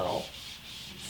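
The abrasive side of a small sponge scrubbing a Black Berkey filter element, a soft, close, continuous rubbing swish that swells slightly and fades.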